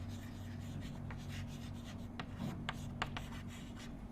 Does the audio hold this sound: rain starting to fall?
no